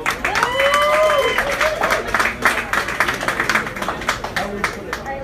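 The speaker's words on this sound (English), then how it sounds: "I want y'all to clap your hands for Lamont King." A comedy show studio audience bursts into loud, sustained applause with cheering, the clapping thinning into scattered claps by the end.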